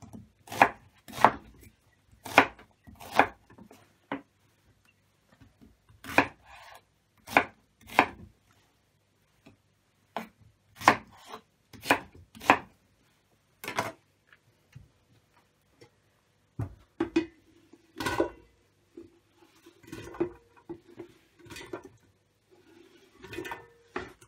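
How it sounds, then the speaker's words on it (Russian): A knife chops an onion into medium cubes for a pork shashlik marinade, making crisp, close thuds on a board in quick rhythmic bursts separated by short pauses, with no talking. "Мы берем лук. Нарезаем в среднем кубиком."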